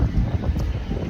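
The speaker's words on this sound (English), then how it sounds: "it really is windy" Strong wind blows outdoors, buffeting the microphone with a loud, low, continuous rumble and uneven gusts throughout, with no voices.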